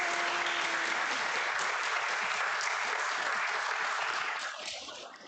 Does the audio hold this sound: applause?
yes